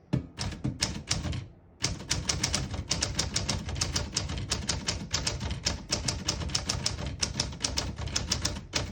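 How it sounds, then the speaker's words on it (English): A 1940 Corona Standard portable typewriter being typed on in a fast, steady run of sharp key strikes, with one brief pause near the start, close and crisp. "Beautiful typing machine."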